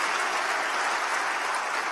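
A church congregation applauding, a dense, even wash of clapping throughout, close and fairly loud.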